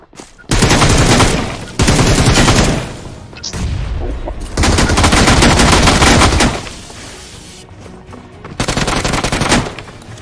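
Automatic gunfire in the BGMI (PUBG Mobile) battle royale game, loud sustained bursts of rapid shots in several long volleys with brief gaps between them.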